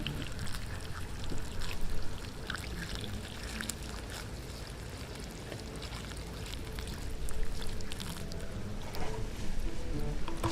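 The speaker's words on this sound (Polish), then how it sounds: "lejemy, moi drodzy, wody dalej" Water poured steadily over a GoPro-type action camera frozen in a block of Coca-Cola ice, a continuous splashing trickle that runs close and fairly loud for the whole stretch.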